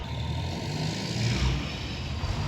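A freight truck that has just delivered two pallets of 3D printing plastic rumbles as it drives away. The engine swells to a low peak midway and then fades steadily.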